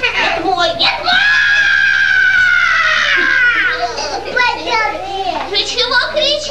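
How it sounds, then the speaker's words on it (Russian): Puppet theatre characters from a staging of 'One Wolf, Two Hunters and Three Piglets' let out a loud, sustained scream lasting a few seconds, followed by excited childlike voices. "Ты чего кричишь?"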